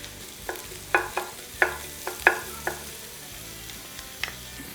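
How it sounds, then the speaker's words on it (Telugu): Thinly sliced onions frying in a pan for chicken tawa pulao, a soft steady sizzle broken by several sharp clinks and scrapes of a spoon stirring against the pan, with no voices. "ఇలా ఉల్లిపాయలు మంచిగా వేగిన తర్వాత"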